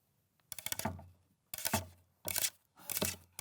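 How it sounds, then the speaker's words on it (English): Paper clips tapped and scraped on a cutting board as a sound effect, four short close bursts of rattling, clattering impacts separated by brief silences. "the sound of paper clips on a cutting board"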